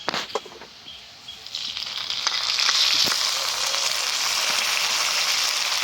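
Ground spice paste added to onions fried until browned, giving a few sharp clicks and then a swelling steady sizzle that holds at moderate loudness, close by and without voices.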